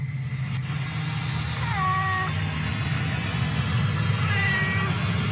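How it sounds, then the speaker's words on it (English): A cat meows a couple of times, drawn-out and wavering, over a constant hum and faint high whine in the background. "That's a cat."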